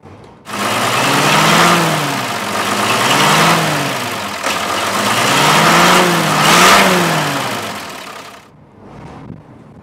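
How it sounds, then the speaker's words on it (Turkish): A Mercedes O302 bus with its engine at the rear revs loudly and close, rising and falling in several rumbling swells before cutting off near the end. "Şimdi arkada motor sesi gürül gürül geliyor aslında."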